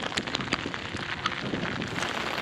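Rain falls during a long-distance walk through the Alps, a continuous close patter with scattered sharper drop hits over a steady hiss and no talking.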